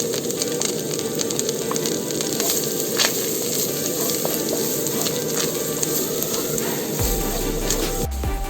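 Finely chopped garlic fries in melted butter in a pan, a steady close crackling sizzle that runs throughout, with a light scrape of stirring.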